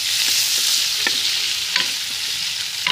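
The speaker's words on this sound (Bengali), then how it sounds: "দিয়ে এখন এটাকে আমি একটু নাড়াচাড়া করে নেবো" Onions, green chilies, tomato and chopped spices sizzle steadily in a pan for pumpkin bhaji, with a spoon scraping and stirring in a few distinct clicks over the constant hiss.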